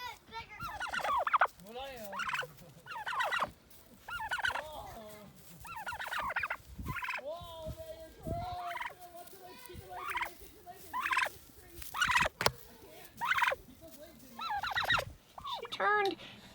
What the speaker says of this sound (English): You beautiful birds.